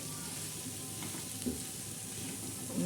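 Bitter gourd sabzi frying in a pan while being turned, a steady soft sizzle with occasional scraping stirs, close and continuous.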